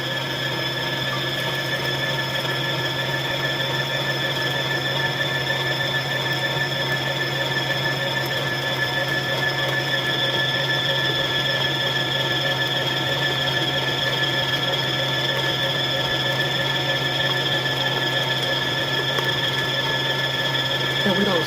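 An electric mixer beats butter, sugar and eggs for a cake, humming in a steady, continuous whir with a constant pitch that runs unbroken throughout the clip.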